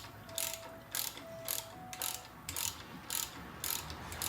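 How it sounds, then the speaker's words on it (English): A ratchet wrench clicks in short rhythmic bursts while tightening a bolt on the front brake of a 2011 Impala. There are roughly eight quick, close ratcheting strokes at a fairly quiet level. "My ratchet's a little cockeyed because it's touching on that strut bolt."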